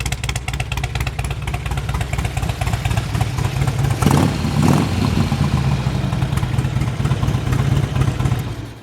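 A Harley-Davidson Road King with Rine Hart true dual exhaust idles loudly nearby, its deep, lumpy rhythmic exhaust pulse steady, with a brief blip of the throttle midway.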